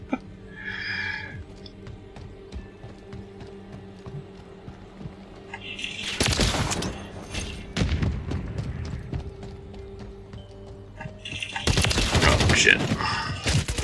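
Call of Duty Modern Warfare 3 gameplay with rapid gunfire and heavy explosion bursts, quieter mechanical clicks at first, then two loud volleys of fire and booms at close range.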